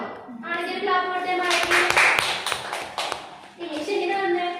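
Students in a biology demonstration class break into a burst of hand claps, a cluster of sharp, close slaps lasting about two seconds between stretches of a teacher talking.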